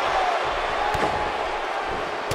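A wrestling body slam in WWE 2K18 during a triple threat match: one sharp thud lands in the middle of continuous loud arena crowd noise.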